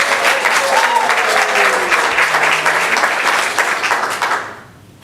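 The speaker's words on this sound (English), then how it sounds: "You can give him a round of applause." Steady applause from an audience at a school board business meeting, loud dense clapping for about four seconds before fading quickly to quiet.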